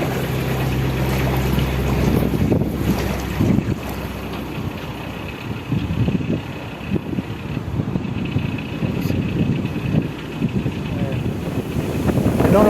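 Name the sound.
wind blowing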